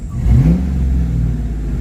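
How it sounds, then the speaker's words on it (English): Engine of a 1994 convertible revving up and holding a loud, close mid-pitched roar for under two seconds, with no voices. "Revving clean."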